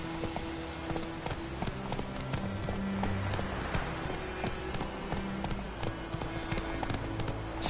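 Horse named Roach clip-clopping at a steady walking pace, hooves close and distinct over a continuous low background, with no talk.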